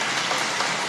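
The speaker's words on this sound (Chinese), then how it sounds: "我给他一个热烈掌声。" A dense, steady wash of applause from a large crowd, sustained and fairly loud across the whole brief moment.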